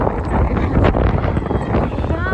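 Strong wind rushes and buffets against the microphone at an outdoor water park in an unbroken roar lasting a couple of seconds.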